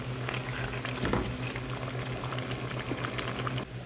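Onion, ginger and garlic paste masala frying in a pan for beef rezala, a dense continuous sizzle and bubbling with a soft stir or scrape partway through, no voices.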